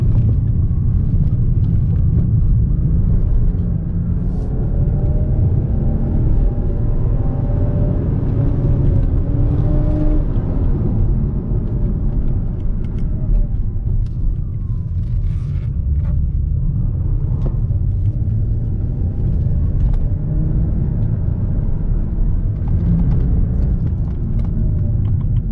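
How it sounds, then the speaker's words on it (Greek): BMW E92 325i coupe on new tyres driving through turns, a steady loud engine rumble and whir heard from inside the car, constant throughout with slight swells as it takes the bends. "το αμάξι μπαίνει που λέμε στροφές"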